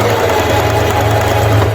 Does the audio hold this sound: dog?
no